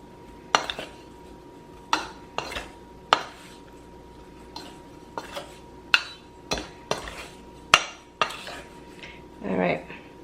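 Beef stew chunks tossed with flour and seasonings in a bowl, heard as a dozen sharp clattering knocks of utensil against dish at uneven intervals, ending in a longer rustling scrape.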